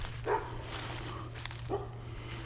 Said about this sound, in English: Hear the dogs barking.